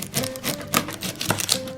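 Onions being sliced with a knife, a few crisp cuts landing as sharp taps over a busy kitchen background, close and moderately loud.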